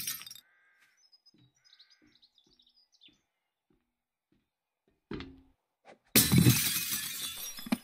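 In the 7 Days to Die video game, glass shatters in a sudden loud crash near the end, after a quiet stretch of faint chirps and soft clicks.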